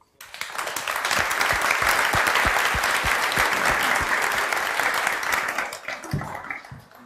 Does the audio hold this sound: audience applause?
yes